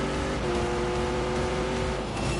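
A car nicknamed the Exorcist, running a supercharged Corvette Z06 engine, launches hard. A dense, loud, unbroken engine roar fills the whole brief moment, with no voices.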